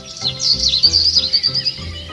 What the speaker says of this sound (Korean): 어디선가 들려오는 짹짹 소리에 고개를 들었어요